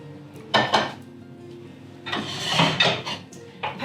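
Pancetta, bought diced and sautéed in a little olive oil, tipped into a pea and radish salad with burrata, giving a few close clinks and scrapes of a pan and utensils in short bursts against a quiet background.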